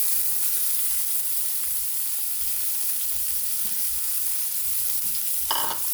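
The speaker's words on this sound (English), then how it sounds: "So I'll go ahead and add in my coriander stems and my red onion." Coriander stems and red onion fry in hot oil in a stew pot, a steady close sizzle with low stirring bumps underneath and a brief brighter scrape near the end, no voices.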